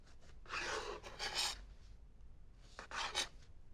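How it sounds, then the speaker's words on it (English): A serrated knife saws back and forth through a cake layer in two bursts of raspy, scratchy strokes, close and fairly quiet, with no talking. "So I cut the cake in half,"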